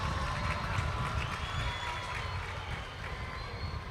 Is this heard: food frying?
no